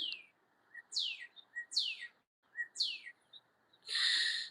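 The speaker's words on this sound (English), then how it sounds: "Here in Australia, Our birds sound like a loon laughing in the morning." Australian birds call in the morning with a series of sharp, descending chirps and short notes, spaced a second or so apart, followed by a louder, harsher burst at the end.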